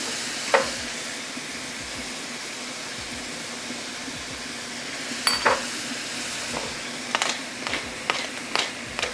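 Beets stirred and frying in oil in a pot for Ukrainian borscht, a steady low sizzle with occasional spoon scrapes and clicks, busier toward the end.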